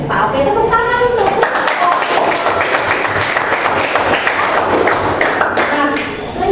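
Students in a classroom clap together for several seconds, a dense, fairly loud patter of many hands with some children's voices mixed in before it fades.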